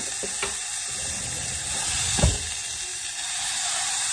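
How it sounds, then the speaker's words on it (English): Ground meat browning in a pan for tacos gives a soft, continuous sizzling hiss, with a couple of brief utensil knocks partway through. "We're gonna just start browning this meat."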